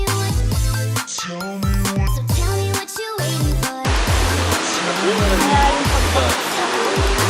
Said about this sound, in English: The three waterfalls are a lot larger and powerful in size